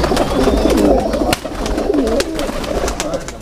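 Sialkoti and Pindi Bhatian pigeons coo in repeated soft, throaty phrases close by, with a few sharp clicks and a steady background hum.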